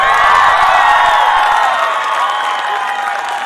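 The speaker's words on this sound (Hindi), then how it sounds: "तो सबसे पहले जोरदार तालियां हो जाए 2016 बैच के लिए" Loud, dense applause and cheering from an audience at a college function, a sustained wash of clapping and shouts for the 2016 batch that holds steady and eases slightly toward the end.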